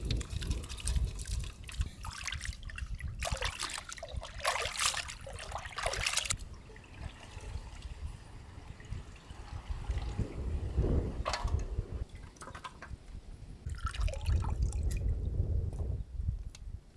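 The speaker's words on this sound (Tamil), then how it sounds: "மஞ்சள் ஊற வச்சதா ஒரு கழுவி எடுத்துக்கணுமுக்கா" Turmeric-soaked river mussel meat being washed in water by hand, with wet sloshing, squishing and trickling bursts that come and go over quiet stretches.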